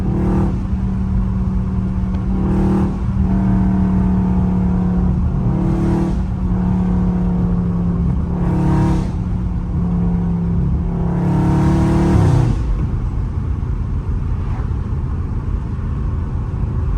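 A Dodge Challenger Scat Pack's V8 engine revs repeatedly in traffic, heard from inside the car. A steady droning rumble rises in several sharp throttle blips and drops back, ending in a long climb before easing off, with no talk.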